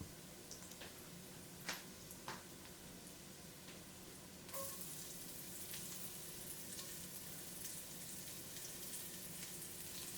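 Garlic fries in the center of a pot surrounded by onions with a soft, low crackling sizzle and scattered light pops, growing a little fuller and steadier partway through.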